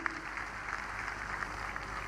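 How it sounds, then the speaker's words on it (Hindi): Brief applause from a crowd at an Agrawal community foundation day gathering, a steady dense patter of clapping heard at moderate distance throughout. "ये बात अब ताली बजाने लायक है"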